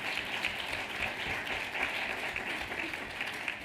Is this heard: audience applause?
yes